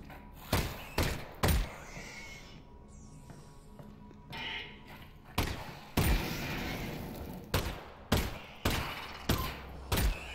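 In Half-Life: Alyx, a gnome fires a gun in sharp, loud single shots, some close together in pairs and some spaced apart, over a quiet hum of game ambience.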